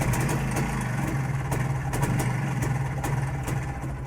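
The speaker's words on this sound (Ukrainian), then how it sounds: "Я нажимаю на кікстартер. Холодний." Cold Jawa 350 motorcycle engine being kick-started with no battery, a loud close mechanical chugging with rhythmic pulses across the clip, no talking.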